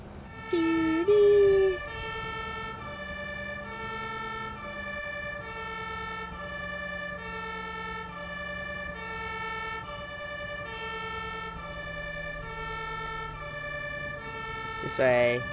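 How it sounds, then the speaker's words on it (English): An ambulance siren in the video game Ambulance Simulator wails in a steady repeating two-tone pattern for the full length, loud and continuous over a low vehicle engine rumble, with brief tonal chirps at the start and end. "So I believe it says I can use the sirens too"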